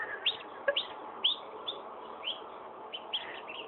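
A small fluffy duckling peeps in a quiet room, a series of thin, high, separate chirps spaced irregularly, fairly faint and close.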